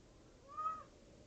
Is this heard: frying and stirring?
no